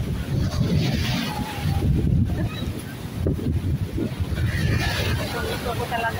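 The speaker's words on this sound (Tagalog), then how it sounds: "ang sarap ng hangin" Sea wind buffets the microphone in steady gusts along a European seashore, with waves and surf rumbling beneath and a voice talking over it.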